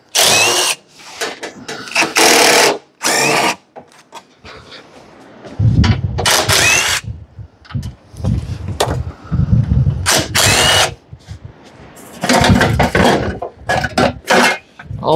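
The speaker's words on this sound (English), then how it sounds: "Let's buzz your muffler bolts out." A handheld power tool whines in repeated bursts of a few seconds each, loud and close, as it drives out the muffler bolts on a Briggs Intek riding mower jacked up in the air.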